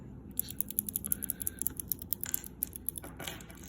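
A small blue keyboard-keycap fidget toy clicked repeatedly by hand, giving a quick run of crisp, light, close-up clicks with uneven rhythm and no talking.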